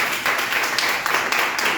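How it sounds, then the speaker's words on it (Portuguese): A church congregation claps together in a brief burst of steady, fairly close applause. "Aplauda ao Senhor."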